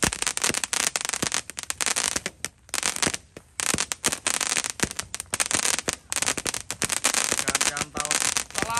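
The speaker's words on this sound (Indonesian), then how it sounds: "semuanya pada menyalakan kembang api" Rapid Roman candle fireworks crackle and pop in dense bursts on New Year's Eve 2023, many sharp bangs overlapping with brief lulls, loud and close, with crowd noise mixed in.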